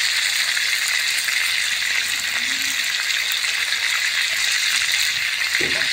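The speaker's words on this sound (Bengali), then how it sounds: "একইভাবে এই চিকেনগুলো ভেজে নেব" Chicken pieces fry in hot oil for biryani, a steady, dense sizzling hiss that holds at an even level, with a soft knock near the end.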